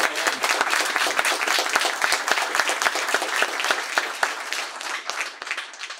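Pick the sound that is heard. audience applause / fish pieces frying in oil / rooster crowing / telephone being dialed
audience applause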